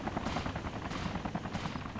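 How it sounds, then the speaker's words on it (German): In the video game DayZ, a Black Hawk helicopter battles another helicopter: rotor thudding runs throughout and is punctuated by bursts that sound like gunfire. "Hier kämpft jetzt eine Blackhawk gegen den Camper-Heli."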